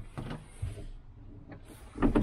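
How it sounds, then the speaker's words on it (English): Gull-wing side doors on a 2020 Brabus Shadow 900 Sun Top superboat lifting open, giving a couple of soft mechanical thuds and a brief whir of motion at close range, with the last movement the loudest. "I'll just pop these side gull wing doors up."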